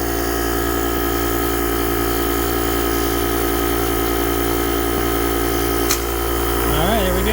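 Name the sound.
JomGand JQP2250 portable air compressor running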